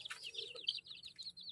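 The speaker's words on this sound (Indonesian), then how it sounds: "Wow, ada ayam teman-teman" A chicken clucks and chirps faintly in a quick, uneven run of short calls, heard alone with no talking.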